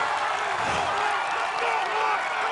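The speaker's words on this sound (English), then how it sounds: "And the crowd erupting." A large arena crowd at an American Ninja Warrior competition roars in sustained cheers and whoops, a loud continuous wall of voices with a commentator talking over it.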